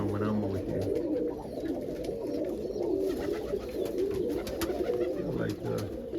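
Pigeons coo softly and repeatedly in low, throaty phrases, with faint background noise and occasional rustling around them.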